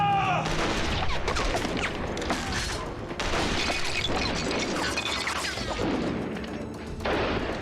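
A loud, chaotic burst of rifle gunfire with overlapping shots and clattering bangs, sustained throughout, like a volley from several rifles at close range, in a Philippine revolutionary-era battle drama.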